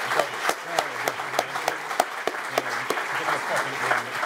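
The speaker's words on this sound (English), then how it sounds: "as we clap you onto the stage" An audience applauds as a speaker is welcomed onto the stage at a talk, with steady crowd clapping and sharp individual claps standing out throughout, close and fairly loud, with no speech over it.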